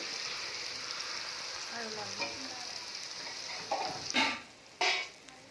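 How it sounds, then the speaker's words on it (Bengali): Soybean masala fries and sizzles steadily in a pan as hot water is poured in, with a few sharp clinks of a utensil near the end. "সামান্য গরম জল এতে অ্যাড করে দেব।"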